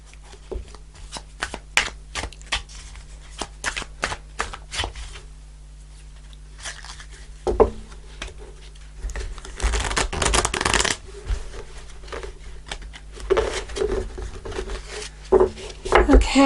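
Fairy Tarot deck cards being shuffled and handled, quick papery riffles and soft flicks in irregular bursts, growing denser toward the end, close and moderately quiet.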